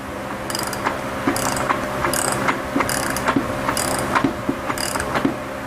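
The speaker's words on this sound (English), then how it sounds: "I got a big ratchet here and we're just going to drive them in" A big ratchet driving in parts during a Honda transmission rebuild, with rapid pawl clicking in regular strokes of roughly one per second, close and loud over a low mechanical hum.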